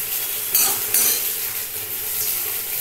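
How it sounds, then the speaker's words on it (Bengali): Bhujia frying in a little oil in a pan for egg khichuri, a steady soft sizzle with two brief clinks of a ladle stirring near the start. "আর একটু তেল দিয়ে একটু ভেজে নিচ্ছি"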